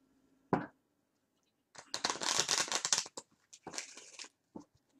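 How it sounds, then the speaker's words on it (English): Tarot cards being shuffled in quick riffling bursts, with a sharp tap near the start and a softer flurry later; no voices. "Get another good shuffle."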